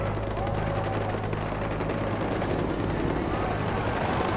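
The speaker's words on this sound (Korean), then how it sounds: "헬기 있다" Helicopter in Far Cry 4 hovering close by with a steady, loud rotor drone and low thumping hum, continuous throughout with a faint rising whine above.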